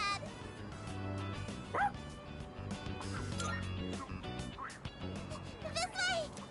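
An angry dog in Persona 3: Reload barks repeatedly in short yapping bursts over busy game music, close and fairly loud, with a brief whimpering yip among the barks.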